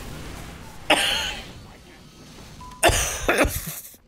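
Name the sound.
cough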